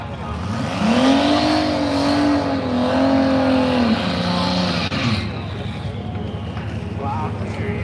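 Drag racing car doing a burnout at a TX2K25 event, the engine held at a loud sustained rev that climbs, holds steady and then drops off, with crowd noise and an announcer's voice over it.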